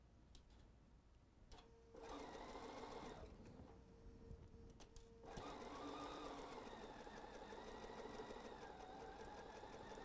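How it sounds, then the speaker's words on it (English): Sewing machine running a standard quarter-inch seam while piecing a quilt-as-you-go pillow cover: a steady, close, rapid mechanical stitching whir with a brief pause and restart, continuing steadily without talk. "let's go sew this together with a standard quarter inch seam allowance"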